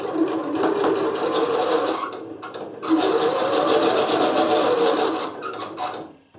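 A sewing machine runs a second line of stitching along a blouse hem, a steady close mechanical whirr that breaks off briefly midway and then continues before stopping, with no talking.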